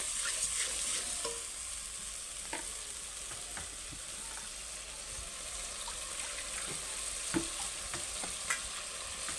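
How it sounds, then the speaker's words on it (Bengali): Beaten sour yogurt stirred into a bubbling fish curry in a pan, a soft continuous sizzle with scattered clicks and scrapes of the spoon, fairly quiet and steady, without speech. "টক দইটা আমি ফেটে নিয়েছি ওটাও দিয়ে দেবো দিয়ে নাড়াতে থাকবো"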